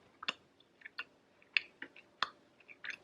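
Someone chewing a cinnamon macaron filled with buttercream: soft, close, irregular crunchy chews and clicks, quiet and alone with no talk.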